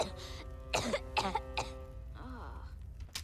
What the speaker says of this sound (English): It was just a little cough.